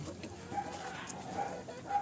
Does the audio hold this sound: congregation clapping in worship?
no